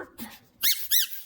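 Two short, high-pitched squeaks from a squeaky penguin toy pressed twice in quick succession, close and clear after a faint rustle.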